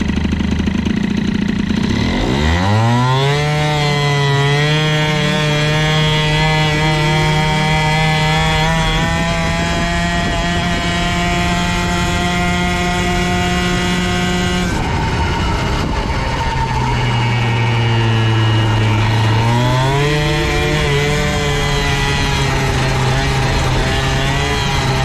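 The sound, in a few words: moped engine with Airsal CPI 70 kit idling and revving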